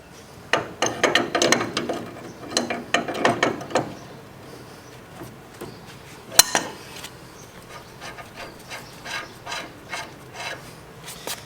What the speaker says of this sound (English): So I'm going to grab a wrench.